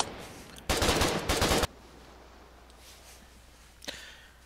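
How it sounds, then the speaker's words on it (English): Submachine gun fire in the video game Foxhole, two loud sustained bursts of rapid automatic shots back to back, then quiet with a faint distant pop near the end. "Okay, so a submachine gun."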